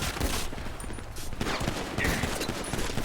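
Loud, dense gunfire in the GTA V NoPixel video game: a continuous burst of rapid shots with no break.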